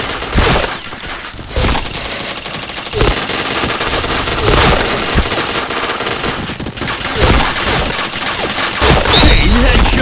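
Video game gunfire, dense bursts of rapid automatic shots and scattered single cracks, loud and close, with short pauses between volleys.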